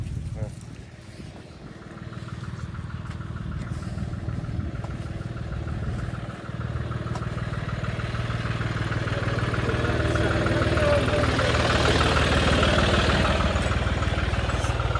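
A parked tractor idles with a steady, rumbling engine drone that holds for the whole stretch and grows slightly louder and fuller toward the end.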